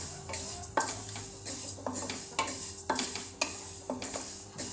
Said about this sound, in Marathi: आता आपण याच्यामध्ये ना तीळ घालूया, आणि बारीक गॅसवर असे ना चांगले भाजून घेऊया